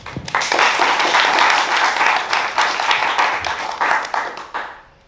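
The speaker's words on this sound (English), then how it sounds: "round of applause for Stephanie as well, please" Audience applause for a panelist at a talk event, a dense, loud burst of many hands clapping that holds steady for several seconds then tapers off.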